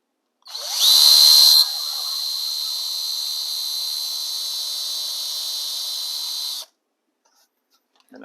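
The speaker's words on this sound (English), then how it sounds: "Just need to drill a hole." A power drill whines alone as it bores a hole into a model railway structure, spinning up with a sharp higher burst for about a second, then holding a steady buzzing note for five seconds before stopping.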